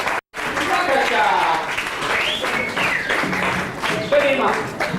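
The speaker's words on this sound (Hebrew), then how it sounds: "קיבלת את המחיאות שהגיעו לך" An audience at a high school Purim party claps steadily, a dense wash of applause that carries on under people talking and calling out.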